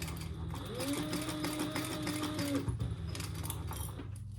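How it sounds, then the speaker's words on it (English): A sewing machine runs steadily, stitching the lining seam of a small travel bag with a continuous close mechanical whir that holds for a few seconds and then stops. "just sew that together, the inside seam allowance"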